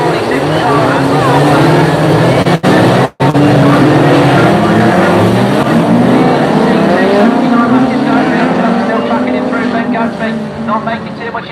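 Race cars at a BAS finals meeting roar past on the track in a loud, continuous engine drone that rises and falls, while a commentator talks over it.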